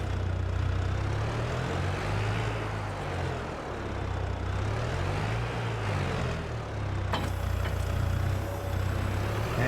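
A small Landini tractor in Farming Simulator 22 drives along with a steady low engine drone and a droning hum that wavers slightly in pitch, with a faint click near the end.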